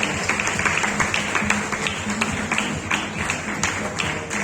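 An audience at an award ceremony in Dhamtari honouring talented students and dedicated teachers applauds loudly in a steady, dense wash of clapping that lasts the whole stretch, with some tonal background sound mixed in.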